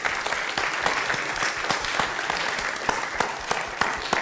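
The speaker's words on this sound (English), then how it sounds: "Round of applause." Audience claps steadily for a guest speaker at an evening talk event, a dense, even round of applause with individual sharp claps popping out, sustained across the whole stretch without any voices.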